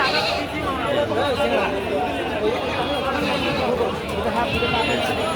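Goats and young kids bleat repeatedly amid the steady hubbub of a busy, sunny livestock market, with calls overlapping a constant crowd murmur throughout.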